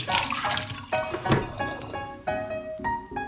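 Tap water runs into a vessel while film-developing chemistry is mixed at a sink, a loud splashing flow that stops and starts several times, with rising filling tones between bursts.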